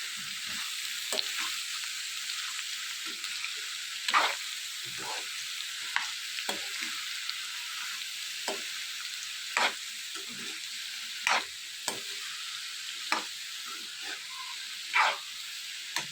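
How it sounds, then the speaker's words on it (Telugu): Bottle gourd pieces fry in a pan with a steady, soft sizzle while a spoon stirs them, giving scattered sharp scraping clicks every second or so, close by and without talk. "ఇలా మొత్తం అన్నీ కలిపేసుకున్న తర్వాత మూత పెట్టుకుని ఇవన్నీ కూడా మగ్గేంత వరకు ఫ్రై చేసుకోవాలి."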